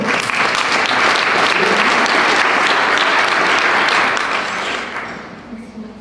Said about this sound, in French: On peut applaudir chaque intervenant.